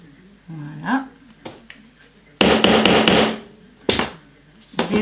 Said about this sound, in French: Donc je mets au milieu et avec mon marteau je fais le trou.